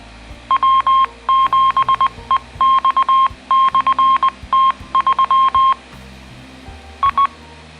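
A Radtel RT-900 handheld radio with a stubby 3-inch antenna sending loud, clipped beeping tone sequences to a 70-centimetre repeater, in rapid bursts with short pauses.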